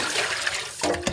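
Water is poured onto jute leaves to soak them, giving a steady close splashing and gushing rush that shifts to a fuller filling sound near the end.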